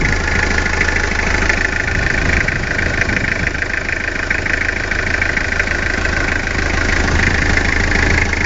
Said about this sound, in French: le moteur tourne.